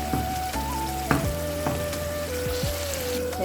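Beef rezala sizzles and fries steadily in a pan while a spoon stirs and scrapes through it, close and loud, with a few clacks of the utensil against the pan and a faint tonal whine running underneath.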